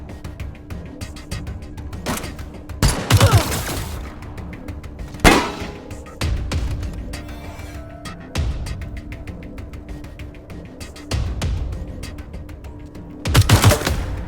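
Gunfire in the Wasteland 3 video game: several loud bursts and single shots, spaced irregularly through a steady low battle rumble, with no talking.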